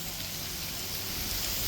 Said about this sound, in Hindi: बारिश थमने का नाम नहीं